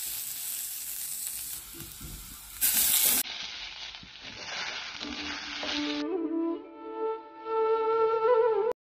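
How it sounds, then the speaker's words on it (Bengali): Singhi fish fry in hot oil with salt and turmeric, giving a steady crackling sizzle with brief louder bursts, and a tonal melody joins in toward the end. "শিং মাছ দুটো এখানে দিয়ে দেবো, দিয়ে একটু লবণ হলুদ দিয়ে নেড়ে চেড়ে নেবো, নিয়ে একটুখানি ভাজা ভাজা করেই জল দিয়ে দেবো"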